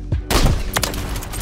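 Explosive rounds fired from a sniper rifle in Call of Duty, loud dense bursts of gunfire and booms packed close together with a sharp crack in the middle.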